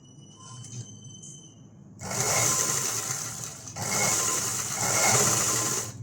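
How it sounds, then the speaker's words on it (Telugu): Sewing machine stitching folded fabric tucks, running in two steady loud bursts of fast whirring after a quiet start, close by with a short pause between runs. "ఇక్కడ ఈ రెండింటిని కలుపుకొని ఇప్పుడైతే ఇలా ఒక స్టిచ్చింగ్ వేసుకోవాలి"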